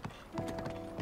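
Horse hooves gallop in The Legend of Zelda video game, a quick, rhythmic clip-clop that is fairly faint and lasts only about a second.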